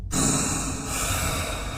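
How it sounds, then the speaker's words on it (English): Heavy breathing close up, one long, raspy, sighing breath that rises sharply and then holds steady before easing off, with no talking. "He heard heavy breathing behind him."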